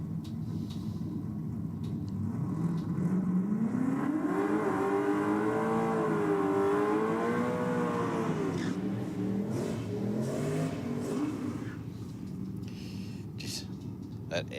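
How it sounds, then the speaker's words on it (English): Ford XR Falcon car doing a burnout at a race event, engine revving and wailing up and down in pitch with a rough rumble beneath, fairly distant, with commentators talking over it. "That XR Falcon sounds sweet in the burnout, doesn't it?"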